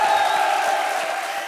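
Studio audience on an Indian TV comedy show, Comedy Circus, clapping and cheering steadily for about a second and a half, a dense crowd wash that fades slightly toward the end.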